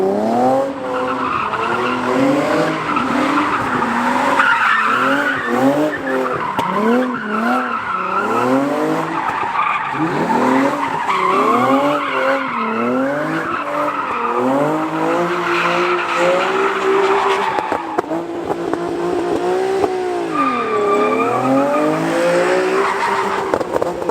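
A car in GTA skids and slides with repeated wavering tire squeals and engine revs, loud and continuous throughout, with little talk over it.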